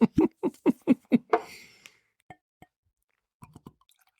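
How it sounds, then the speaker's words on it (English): Maker's Mark Cask Strength bourbon glugs from a bottle into a Glencairn glass in a quick run of about seven rhythmic pulses, then a few soft drips and light taps, close and alone. "Let me pour them out real quick. And when I say pour them out, I mean pour them into my Glencairn."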